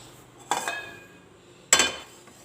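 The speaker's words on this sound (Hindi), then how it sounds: "गैस ऑन करके मैंने ये पानी रख दिया है" Two sharp metallic clanks a second apart as a pot of water is set on a gas stove grate, each ringing briefly before fading.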